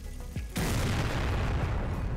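In Garry's Mod, the KV-44 super tank fires its super cannon with one sudden heavy boom that rolls into a loud, sustained rumbling roar, preceded by a brief faint tone.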